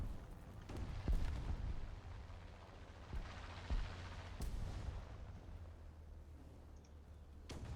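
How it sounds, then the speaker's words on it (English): Bombing explosions boom in the War Thunder video game, several low heavy blasts and rumbling impacts at moderate distance, with sharper cracks of gunfire scattered through a steady battle din. "Something gets bombed to hell over here."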